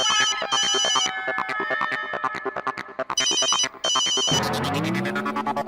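A mobile phone ringtone plays loudly and continuously, a repeating electronic melody with bright tonal pulses, ending in a dense, jumbled burst of sound.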